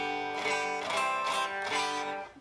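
Quiet, thin strumming of an unplugged Ibanez Artcore semi-hollow electric guitar, a few chords brushed in quick succession with a bright, plinky tone and little sustain.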